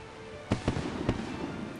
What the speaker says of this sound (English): Fireworks again, so pretty.